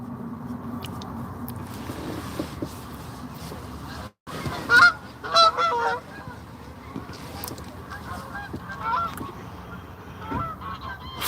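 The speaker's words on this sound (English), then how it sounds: "Flock of geese, man. An absolute mad flock of geese." A flock of geese honks outdoors near a road, a scattered burst of fairly faint, distant honks over a steady background rumble with passing traffic, and people talk at times throughout.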